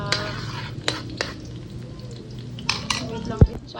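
Chopped onion sizzles in a preheated pan while cooking Bicol Express, giving a steady frying hiss with a few scattered clinks of utensils against the pan and one sharp knock near the end.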